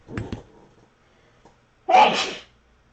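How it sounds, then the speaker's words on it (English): A single sharp sneeze bursts out after a couple of quick breathy sounds, close and loud, followed by silence. "I'm going to sneeze."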